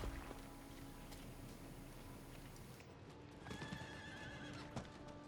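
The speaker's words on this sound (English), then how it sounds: "Oh, I like your horse." A horse in the Diablo IV video game trots with steady clip-clop hooves and gives a clear neigh, with more hoofbeats and whinnying in the second half, close and prominent.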